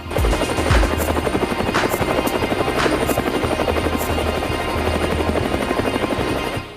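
Rotor thump and turbine whine from the Indian Air Force's Prachand, an indigenous light combat helicopter, run loud and steady throughout with a rhythmic blade chop and a high whine above it.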